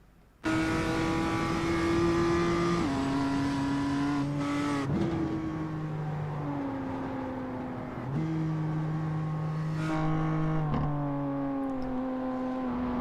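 Onboard a race car, the engine screams at high revs through a run of upshifts into fifth gear, with pitch dropping sharply at each change before climbing again, loud and close throughout.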